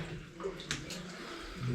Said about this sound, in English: we're straight into waist deep water